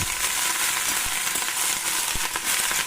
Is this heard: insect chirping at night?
no